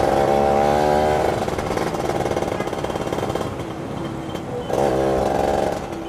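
A Yamaha F1Z-R two-stroke motorcycle with a ported engine and a racing gear ratio revs loudly and close by, its raspy buzz rising and falling across the gears, with no voices.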